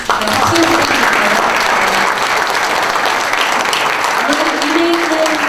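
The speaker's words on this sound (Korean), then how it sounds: "박수 부탁드립니다" Audience at a Korean press-freedom pledge-signing ceremony applauds loudly and continuously for several seconds, a dense close wash of clapping.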